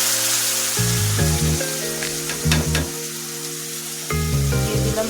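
Lentil dal gets its tempering in hot oil, a lively sizzle and crackle of spluttering spices that runs throughout, with a tonal musical hum layered underneath.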